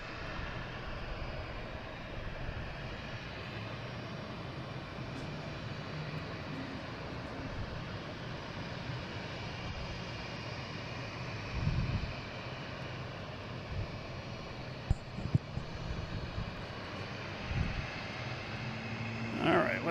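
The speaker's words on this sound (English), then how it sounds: "JetBlue coming in from San Juan" A JetBlue airliner arriving from San Juan at Boston Logan, its engine noise a steady, moderate rumble heard from a distance, with a few faint knocks nearby.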